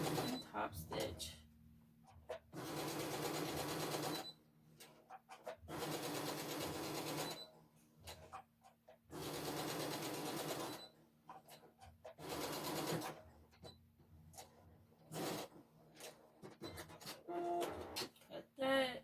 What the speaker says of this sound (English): So we're just gonna go ahead and top stitch.